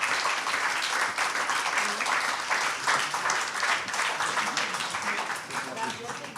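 An audience at a round-table discussion claps steadily in a moderately loud, even wash of applause that thins slightly toward the end, with faint voices mixed in.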